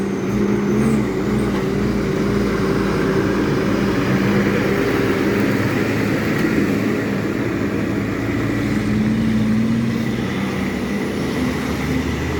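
A Freightliner Cascadia gas truck drives past on a road in Jamaica, a heavy diesel drone steady and fairly loud throughout, with no talking.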